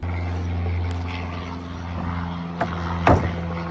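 A propeller aircraft drones steadily from a nearby airport behind a mobile home roofing job, a continuous low engine hum with a few faint knocks and a brief clatter near the end.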